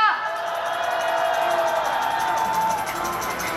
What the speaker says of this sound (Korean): 다시 한번 박수 부탁드리도록 하겠습니다